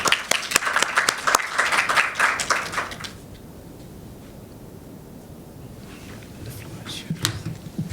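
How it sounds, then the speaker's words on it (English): Audience applause at an energy stakeholders seminar, a dense burst of clapping for about three seconds that fades into scattered claps and quiet room noise, with a few late claps near the end. "please give a loud applause to Mr."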